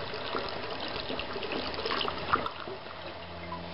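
Water running and trickling into a container as new coolant is mixed with water for a Peugeot 206 water pump job, a steady close pouring wash under background music, with no talk.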